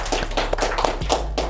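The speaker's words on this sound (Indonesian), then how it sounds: "Ya, kita beri tepuk tangan." An audience at an Indonesian university talk gives a short round of applause, with quick scattered claps at moderate loudness and no speech over them.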